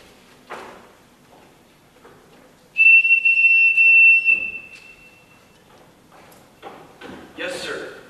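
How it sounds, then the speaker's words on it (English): A loud, steady high whistle held for about two seconds, with voices speaking briefly before and after it. "Everyone in this house answers to a whistle."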